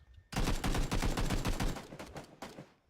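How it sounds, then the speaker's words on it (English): Rapid automatic gunfire from a video game rattles out in a loud, dense burst of shots, followed by a few separate single cracks. "Nice shooting, Jeff."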